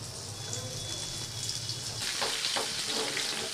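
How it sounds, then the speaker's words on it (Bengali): Lote fish (Bombay duck) coated in chilli, salt, turmeric and dry flour frying in hot oil, with a steady, dense, close sizzle and occasional sharper crackles. "তো মাছ ভাজা একদম কমপ্লিট হয়ে গেছে।"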